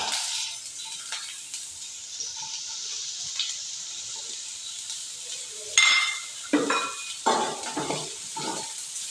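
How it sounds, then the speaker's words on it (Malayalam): Onions sautéing in oil in a pan for a prawn bread chattipathiri: a steady, close sizzle that runs throughout, with sharper scraping stirring bursts through the last few seconds and no talking. "ഓയിൽ ഒഴിച്ച് കൊടുക്കാം പിന്നെ ഇതാ ഉള്ളി ഉള്ളി വഴക്കിയെടുക്കുക"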